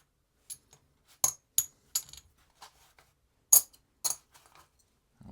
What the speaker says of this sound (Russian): Звук, да, такой. Ну, перепутать невозможно. Керамика, как плитка.